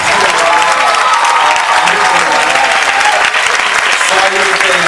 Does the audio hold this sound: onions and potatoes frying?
no